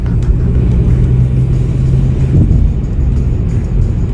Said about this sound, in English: Get the rover through, and then we'll take it for a spin